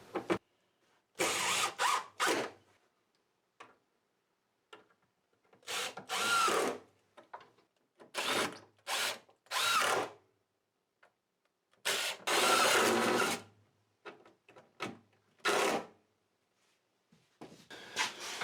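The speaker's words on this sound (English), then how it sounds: "Okay, so we got the holes drilled, and I'm going to put the screws in." A power drill drives screws into a wooden box in short, loud, close bursts of whirring. Each burst is separated by silent pauses, giving about ten starts and stops in a row.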